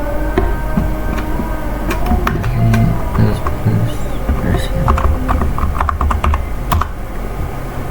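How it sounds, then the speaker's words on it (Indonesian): Continuous rapid clacking of a computer keyboard as C++ code is typed, close and steady throughout, with a faint low hum underneath and no talking. "Di sini kita ketikkan ini ya"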